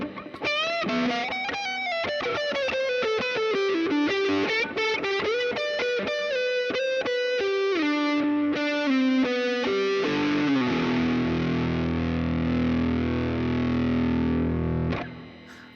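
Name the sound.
guitar through Line 6 POD HD500X preset with all effects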